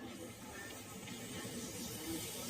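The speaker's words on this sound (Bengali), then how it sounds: "তো এর মধ্যে আমি গোটা জিরা আর তেজপাতা ফোড়ন দিয়ে এর মধ্যে দিয়ে দিলাম পেঁয়াজ কুচি আর কাঁচামরিচ।" Chopped onion and green chilies sizzle in hot oil with whole cumin seeds and bay leaf, a steady close hiss of frying that holds without a break.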